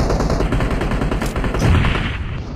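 Cover fire in the mobile battle royale game PUBG Mobile: a dense stretch of loud, rapid gunshots rattles close by in quick succession, continuing without pause and with no one speaking.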